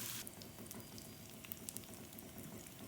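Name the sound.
frying green chillies in a pan for black lentil recipe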